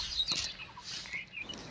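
Birds chirp outdoors around the Golden Pagoda in Arunachal in the early morning, with a few faint, brief tweets over quiet ambient background.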